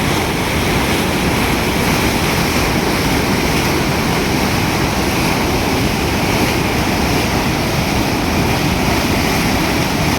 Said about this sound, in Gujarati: મારો અવાજ બહુ નહીં સંભળાય, કેમ કે આ મચ્છુ નદીનો અવાજ જાજો આવે છે